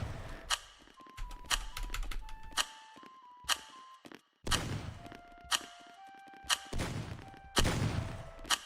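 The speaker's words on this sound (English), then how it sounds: "Just start shooting everybody, guys." Rapid gunfire crackles through a video game shootout, sharp repeated cracks in uneven bursts mixed with clicky game effects and short electronic tones.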